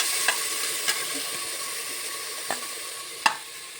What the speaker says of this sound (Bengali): দেখুন এই যে মুগ ডালটাকে আমি ভালোভাবে একটু ভেজে নিচ্ছি